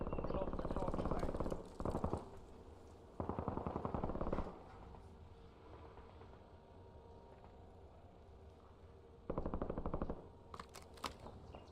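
Automatic gunfire in the video game Warzone, several sustained rattling bursts of rapid fire separated by quieter gaps, loud and nearby with a faint background drone.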